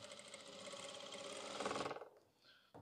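A sewing machine runs steadily, stitching a border onto a kameez, with a fast, even, close mechanical whir for about two seconds before it stops, followed by a brief handling knock.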